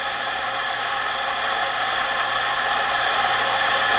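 A Macap M6D espresso grinder runs continuously while grinding coffee, a fairly quiet, even whir with a bright, hissing upper texture that holds steady for the whole stretch, with no voices.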